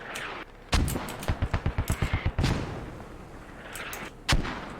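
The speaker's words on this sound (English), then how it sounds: "They're returning fire with mortars too." Mortar fire in a military video game, with a quick run of about ten evenly spaced thumping shots followed by a few scattered booms and a late loud blast, all without voices.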